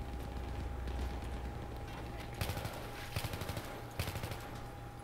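Battlefield 3 gunfire comes in short rapid bursts of automatic shots, moderately distant, under a steady ambient hum, with several clustered volleys spaced a second or so apart.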